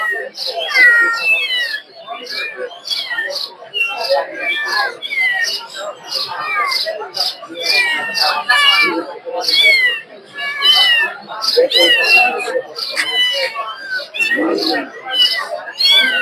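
Kittens for sale at a cat market in Mirpur meow continuously in a high, overlapping chorus, several close at hand, with people talking quietly in the background.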